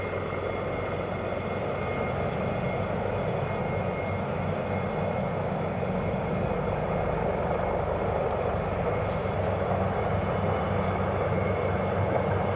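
Steady, continuous engine drone of a helicopter flying, loud and unbroken throughout, with a low rumbling hum and no voices.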